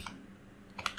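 Keystrokes on a computer keyboard while a prompt is entered: a brief tap near the start, then a quick cluster of three or four clicks near the end, faint over a quiet room hum, with no voices.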